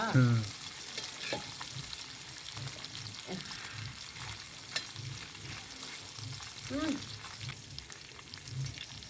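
Fish frying in plenty of hot oil, a steady close sizzle and crackle throughout, with occasional stirring and light handling noises and no talk.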